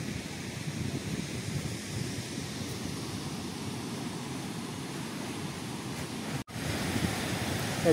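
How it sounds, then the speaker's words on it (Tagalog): Steady surf washing against rocks at low tide at Tibu Tidal Pool, Casiguran, Aurora, with a constant low roar, moderately soft and unbroken, with a brief dropout near the end. "Hindi rin masyadong malakas yung alon pag low tide kasi bumabangga na sa mga bato yung alon."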